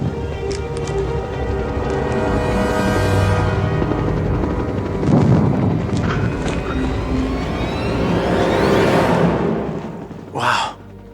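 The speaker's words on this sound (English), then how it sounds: "we got a helicopter right behind it." A helicopter roars loudly and steadily close by, its rotor noise swelling and fading, with a brief sharp burst near the end.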